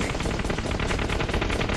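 A rapid burst of automatic gunfire from PUBG Mobile, dense fast repeating shots filling a short, loud stretch.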